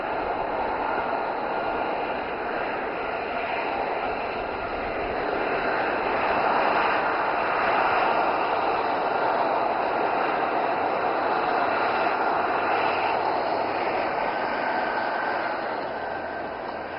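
A military aircraft performs during the Aero India 2025 air display, producing a steady, continuous jet roar heard from a distance that swells slightly midway and then eases.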